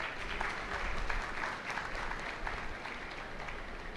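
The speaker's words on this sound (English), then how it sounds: "So big applause to all our panelists here." Audience applause for a medical faculty panel at a conference day: a steady, dense wash of clapping at moderate level, continuous throughout without voices.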